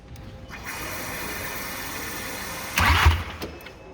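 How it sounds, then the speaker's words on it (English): A Volkswagen CDL engine being cranked over on the starter during a rebuild, a steady mechanical whir with a louder clattering burst near the end, close by. "Okay, Derek, crank it."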